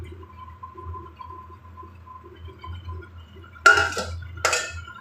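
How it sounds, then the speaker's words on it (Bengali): Prawns hit a cooking pan for a prawn and potato curry. After a quiet background hum come two short, sharp bursts of clattering sizzle, close and fairly loud. "এবার আমি কিন্তু চিংড়িটাও ঢেলে দিচ্ছি"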